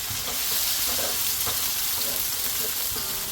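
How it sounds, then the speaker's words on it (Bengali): Khichuri cooks in a pan as a spoon stirs it, a steady close sizzle with scraping stirs repeating under it and no talking. "একটু নেড়ে চেড়ে নেব"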